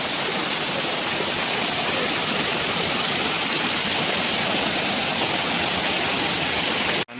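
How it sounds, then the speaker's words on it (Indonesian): Wasai Libuan waterfall at Kampung Mook, a steady, loud, broadband roar of falling water heard up close, continuous and unbroken, cut off abruptly at the very end. "Beginilah suasana di sini, air terjun ya."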